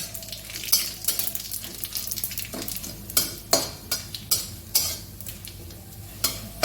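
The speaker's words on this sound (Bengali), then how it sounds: "সুন্দর করে আদাটা আর বাকি সব ফোড়নগুলো ভালো করে ভেজে নেব।" Ginger and tempering spices, including radhuni and dried red chilli, fry in hot oil in a pan for lentils. A steady sizzle runs underneath while repeated sharp scraping stirs rise and fall.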